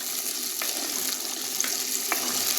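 Onions frying in a pan for dried fish gravy give a steady, fairly quiet sizzle, broken by a few faint clicks of stirring, with no voices.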